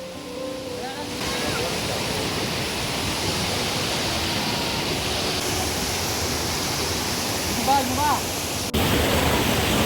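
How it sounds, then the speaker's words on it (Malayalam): A broad, steady roar of a waterfall in Idukki fills the scene, constant rushing water heard at moderate distance with faint wind buffeting, and a brief voice or call rising over it near the end. "നമുക്കൊരു നല്ലൊരു സ്ഥലം കിട്ടിയിട്ടുണ്ട് നല്ല വെള്ളച്ചാട്ടമൊക്കെ ഉള്ളത്"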